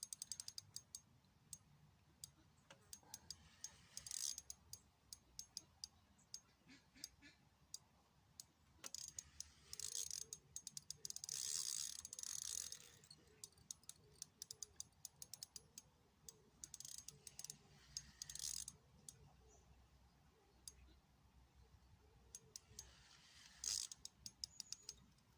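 A fishing reel's clutch is tightened during commercial feeder fishing with a pellet waggler, giving bursts of rapid ratchet clicking, close and crisp, separated by short quiet gaps.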